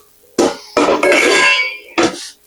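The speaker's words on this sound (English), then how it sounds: "I was going to use this pan, but there's no sense. I'll just use this pan." A metal pan handled on a kitchen stove gives four sharp clanks, one after another, each ringing briefly with a metallic tone, the third lingering longest.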